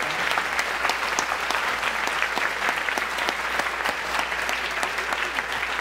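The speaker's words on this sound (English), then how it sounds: "a big round of applause for them" A theater audience at a cat video festival gives a big round of applause for a feral cat organization, many hands clapping steadily and crisply for several seconds.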